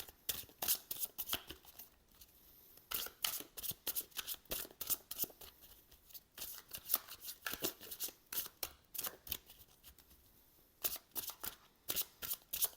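Tarot cards being shuffled by hand, a quick series of crisp riffling and slapping bursts with short pauses between them, close and quiet with no talk.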